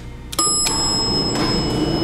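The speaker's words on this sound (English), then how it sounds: "Beautiful bell." A Dover hydraulic freight elevator's arrival bell gives one bright, sustained chime that rings on clearly over a steady mechanical hum.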